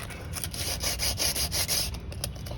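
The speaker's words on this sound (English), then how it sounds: "now I'm using the sandpaper" Sandpaper rubbed over a Gen 3 Hayabusa rear brake disc, rhythmic close scraping strokes in quick repeated passes, steady and moderately loud with no talk.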